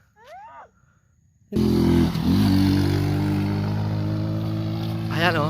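A motorcycle climbs the steep, winding Great Wall of Santol road in La Union, its engine suddenly loud and close after a brief voice, then holding a steady labored drone. Someone speaks briefly before the engine swells.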